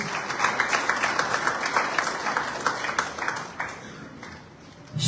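Audience applause at a Zimbabwe embassy event in Namibia, a loud, full round of clapping from a crowd that rolls on steadily, then thins and fades toward the end.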